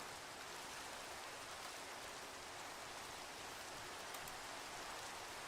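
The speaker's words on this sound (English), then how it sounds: "Can it please stop raining?" Rain in Minecraft falls as a steady, even hiss, faint and unbroken throughout, with no voices or other sounds over it.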